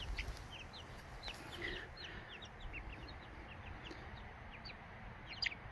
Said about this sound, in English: Brought the chicks out for some sunshine, and so I'd clean their box out.